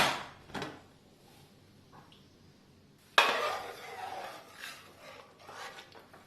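A pressure cooker holding milk payasam is handled and opened in a kitchen, with faint scattered metallic clinks and scrapes and one sharper clank of the lid partway through, all quiet and close.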